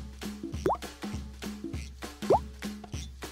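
Drops of food colouring falling one by one into homemade slime, making soft wet plops in a steady irregular rhythm, close and quiet.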